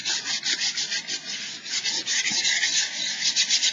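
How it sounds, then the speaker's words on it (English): Sandpaper roughing up cardboard, a quick run of rhythmic scratchy rubbing strokes, close and fairly loud, with no talking. "recover some sandpaper here, and just give them all a bit of a grit"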